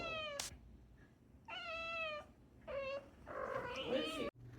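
A pet cat meows repeatedly indoors, four or five drawn-out, clear meows with short pauses between them, close to the listener and with no talking.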